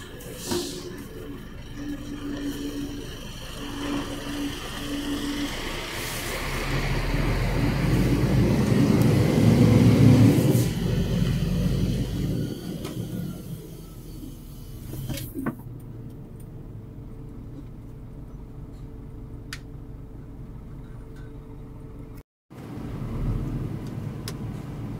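A car maneuvers out of a tight spot and drives away, its engine rising to a louder rumble at mid-clip and then fading, with scattered clicks and a brief dropout near the end and no talk.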